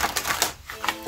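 Tarot cards being shuffled by hand, heard as a close run of crisp, papery riffling bursts and soft taps with no talking.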